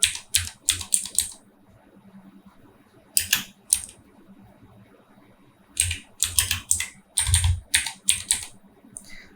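Computer keyboard typing a search, quick bursts of crisp key clicks in three clusters separated by quiet pauses, close and clear with no talk.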